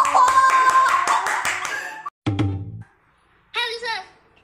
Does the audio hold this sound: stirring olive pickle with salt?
no